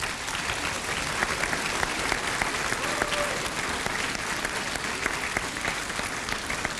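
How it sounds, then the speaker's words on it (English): Sustained, dense applause from a large graduation crowd for the class of 1997, steady and loud throughout with no pauses or speech. "So class, please stand and give them applause."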